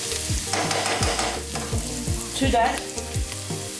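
Onion frying for a chicken curry is stirred in a pan, a loud continuous sizzle with scraping strokes, while a few words are spoken over it.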